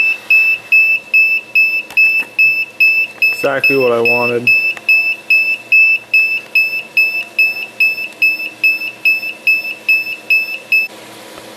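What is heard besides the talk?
high temperature alarm on DIY electric hot tub heater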